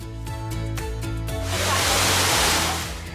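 Tegenungan waterfall in southeastern Bali gives a broad, steady rushing roar that swells in after a stretch of music and then slowly eases, with no voices.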